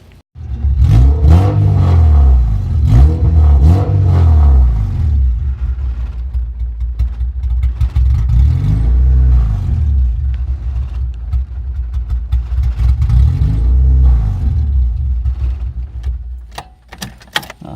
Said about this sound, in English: that's the throttle response with the old computer that I had, which is a VTech computer